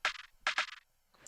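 Two short, crisp percussive hits from an FL Studio perc sample sound in quick succession, the second a double, bright and dry like a hand-drum sample, alone and fairly quiet.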